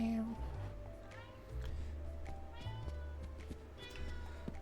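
A pet cat meows a few times indoors, fairly faint, under ongoing close conversation and background noise.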